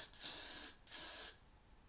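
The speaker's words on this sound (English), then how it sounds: "I'm going to put a little bit more hairspray on it to help set it" Two short hissing bursts of hairspray misted onto a styled cosplay wig, close and fairly soft, each lasting about half a second with a brief gap between them.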